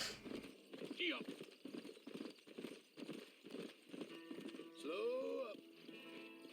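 Rhythmic clip-clop of horse hooves at a steady walking pace in Red Dead Redemption, with a brief whinny and voices talking over it.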